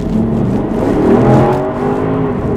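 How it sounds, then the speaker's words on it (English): A Porsche Cayenne in sport mode on low ride height, engine pulled hard at full throttle on a bumpy road, a loud steady roar with rising harmonic tones that swell through the middle and hold to the end. "Wow, listen to that engine."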